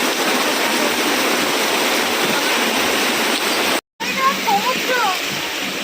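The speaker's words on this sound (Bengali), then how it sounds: "দেখো বৃষ্টিটা আবার কি জোর এলো" Heavy rain pours down hard outdoors on a waterlogged day, a loud dense continuous hiss, with someone talking over it after a brief cut.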